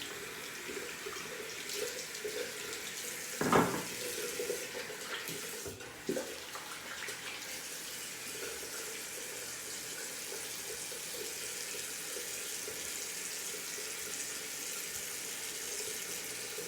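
Water runs steadily from a bathroom tap while a razor is rinsed, a soft continuous splashing stream with a couple of brief knocks against the sink, close and fairly quiet.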